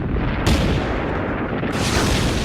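A heavy German artillery and mortar bombardment on a World War I front in a dawn attack: a dense, continuous roar of blasts and rumbling that stays loud and unbroken throughout.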